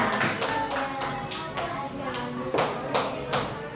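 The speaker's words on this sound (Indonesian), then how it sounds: "Kasih tepuk tangan dong buat kelompoknya Mas Izat." A small group gives a few scattered, uneven hand claps, distinct separate strikes rather than a full ovation, heard under a background of talk and room noise.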